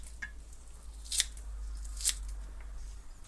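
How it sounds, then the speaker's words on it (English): Two sharp snips of very sharp kitchen scissors cutting salad ingredients for a summer corn chip salad, spaced about a second apart over a quiet room hum. "it's funner with the batty scissors because they're so sharp"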